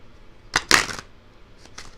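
Tarot cards being shuffled: a couple of quick riffling bursts close up, followed by softer, fainter shuffles.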